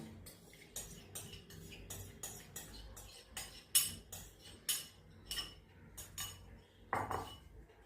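Bread dough ingredients (flour, salt, sugar) being mixed in a bowl, a quiet series of spoon clinks and scrapes against the bowl at an irregular pace, close but faint, with no talking.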